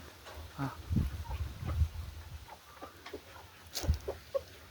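Chickens cluck close by in short, uneven bursts with scattered pauses, and a few sharper calls stand out near the end.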